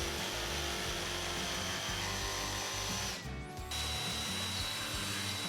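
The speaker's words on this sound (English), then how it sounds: "And watch this, I got this brand new miter saw." New DeWalt miter saw running through wood, a loud continuous power-tool whine with dense grinding texture that briefly dips near the end before resuming, close and alone without talk.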